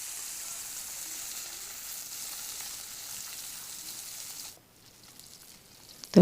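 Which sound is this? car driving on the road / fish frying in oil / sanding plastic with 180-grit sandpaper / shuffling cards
fish frying in oil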